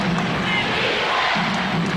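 Arena crowd at a 1991 NBA Eastern Conference Finals basketball game between the Chicago Bulls and Detroit Pistons chanting a steady, rhythmic two-beat defense cheer, loud and continuous, with general crowd roar filling the gaps.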